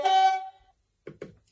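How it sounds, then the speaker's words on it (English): A single short blast of a two-tone air horn from a DCC sound-fitted OO gauge model class 37 locomotive, loud and brassy, followed by a few faint mechanical clicks. "Function 9 is two-tone air horn"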